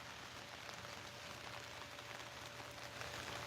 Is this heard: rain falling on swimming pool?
yes